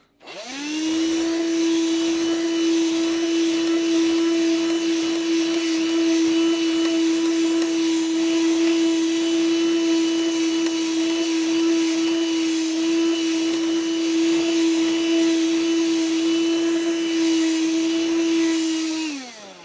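A Black & Decker Dustbuster Turbo Plus handheld vacuum with its small brush attachment runs continuously with a steady, loud motor whine for about twenty seconds, spinning up at the start and winding down at the end, with no talking.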